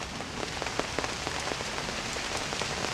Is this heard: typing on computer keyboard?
no